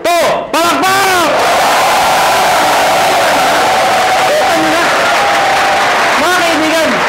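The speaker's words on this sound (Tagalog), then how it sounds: "At pag sila palakpak, lahat dapat may kasamang woo!" A large crowd claps and cheers loudly, with rising whoops of woo from many voices, sustained close by.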